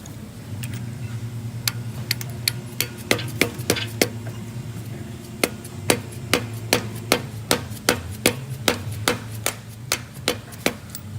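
A pilot bearing is tapped into place with a hammer on a socket during a W58 manual transmission swap on an SC400, giving a steady series of sharp metallic knocks that grow more regular and frequent, close and clear, without talk.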